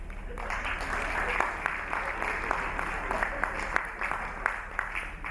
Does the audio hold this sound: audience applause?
yes